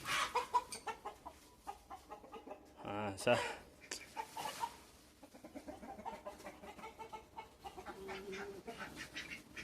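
Loud, harsh bursts of guinea fowl calling, repeated cackles rising over farmyard noise, with a person speaking briefly at the start.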